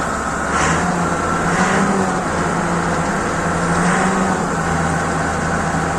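The large diesel engine of a John Deere 1065 combine harvester runs loudly and rises in two brief revs before settling back to a steady rumble.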